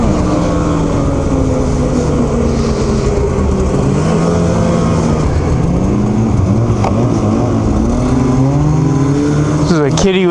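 A snowmobile's small nitro engine revs loudly and continuously, its pitch rising and falling in sweeps, with a sharp surge near the end.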